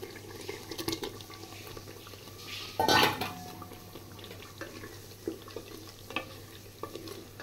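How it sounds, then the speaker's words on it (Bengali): Chopped tomatoes cook with masala in a pan, heard as a faint, low sizzle under scraping and clinking from a spatula. One louder clatter of metal comes near the middle. "মশলাটা একটু ভালো করে কষিয়ে নিই।"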